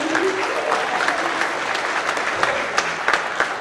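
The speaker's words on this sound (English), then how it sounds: "Let's give those guys a round of applause" Loud, close audience applause at a company monthly celebration, a dense continuous clatter of many hands that stays even throughout.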